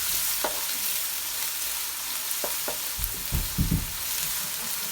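Onion and spring onion frying in a pot for Jamaican peppered shrimp, a close, even sizzle throughout with a few soft scrapes and knocks of stirring near the end.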